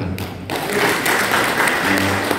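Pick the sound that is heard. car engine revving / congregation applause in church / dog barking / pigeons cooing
congregation applause in church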